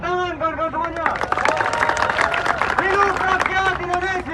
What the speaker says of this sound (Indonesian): Tepuk tangan kawan-kawan semuanya